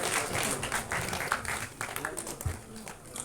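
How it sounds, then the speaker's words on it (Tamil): A burst of applause from an audience at an album song screening festival, steady clapping filling the space for a few seconds with voices faintly mixed in. "ஒரு பலத்த கைத்தட்டல் கொடுக்கலாம்"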